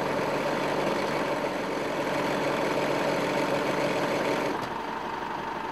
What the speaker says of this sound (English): When I winch out, the further I move the joystick, the faster the line speed